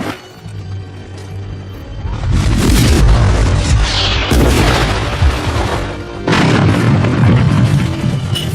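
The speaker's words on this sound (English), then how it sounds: "Finally, at 11:25 a.m., Bonaparte ordered his artillery to open fire." French artillery cannon fire at the Battle of Waterloo: heavy, loud booms in repeated bursts with rumbling low-end, a dense barrage that swells around the second mark and pounds on with short gaps.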